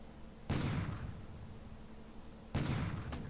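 Two sharp booming blasts of naval gunfire from a battleship bombarding an airfield at Cagayan in the War in the Pacific strategy game, each a sudden loud burst with a decaying rumble, about two seconds apart, no talking.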